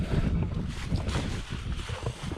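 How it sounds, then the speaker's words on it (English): Gusty wind blows outdoors beside a fabric building, a steady broadband roar buffeting the microphone throughout with low rumbling gusts. "It always seems like when I'm videoing, the wind's gotta blow."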